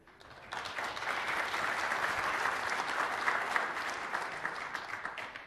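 A conference audience applauds a prize winner with steady, dense clapping. It starts abruptly after a short pause and holds loud and even for about five seconds, with no voices over it.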